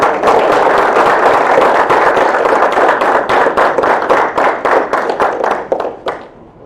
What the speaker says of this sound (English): can we have a round of applause for Dr. Apurji?